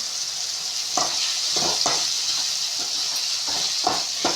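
Slit green chillies fry in a pan for an egg thokku, giving a steady, bright sizzle throughout with occasional soft stirring scrapes.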